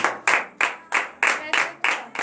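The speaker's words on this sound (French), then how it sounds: "Donnez l'acclamation à Seigneur Jésus." Clapping hands in a steady rhythm at a morning prayer service, about seven sharp bursts in a row, close and fairly loud, like a small group keeping time together.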